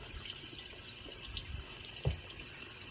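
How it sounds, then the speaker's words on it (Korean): Mountain stream and small waterfall on a valley hiking trail, a steady close splashing and trickling rush with a few louder gurgles, no voices. "물소리가 좋죠."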